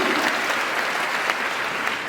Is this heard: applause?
yes